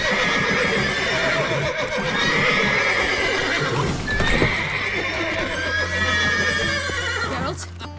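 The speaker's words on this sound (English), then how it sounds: "Gotta calm all the horses before they wake the guards." Horses in The Witcher 3 neighing and whinnying loudly over a constant close stable din, with hooves clopping and shifting beneath the repeated calls.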